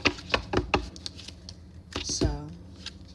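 Tarot cards are shuffled in quick riffling bursts, crisp close snaps and flutters, followed by a brief vocal exclamation.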